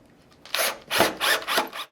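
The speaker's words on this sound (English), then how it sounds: "simply begin by screwing those into place" Number 10x1 deep thread screws are driven into a wooden mounting plate for a pullout pantry, heard as several short grinding, rubbing turns close up, each lasting a fraction of a second.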